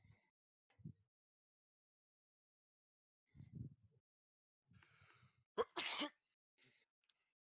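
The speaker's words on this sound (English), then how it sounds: "sneeze." A single sharp, loud sneeze bursts out amid quiet breaths and faint sounds in an otherwise silent room during a tabletop role-playing session.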